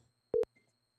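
A single short electronic telephone tone sounds as a call is placed, a clean beep of a fraction of a second in an otherwise quiet line.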